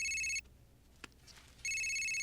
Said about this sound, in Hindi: देखा, पापा का फोन आया